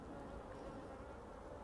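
Honeybees buzzing in an opened hive during a Varroa mite treatment: a faint, continuous low hum with no clear breaks or nearby voices.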